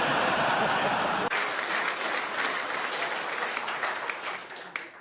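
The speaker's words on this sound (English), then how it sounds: "the audience there applauding" A large audience applauds loudly, a dense wash of clapping that swells then gradually thins and fades out.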